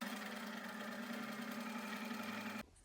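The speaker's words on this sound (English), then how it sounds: "So let's get sewing." A sewing machine stitches tucks into striped fabric, running in one steady, continuous mechanical whir with a low hum and fine rapid chatter, close and even, then stopping abruptly near the end.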